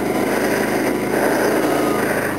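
A Kawasaki Ninja motorcycle engine runs on quarter choke on a winter day, a steady buzzing idle heard close and fairly loud throughout.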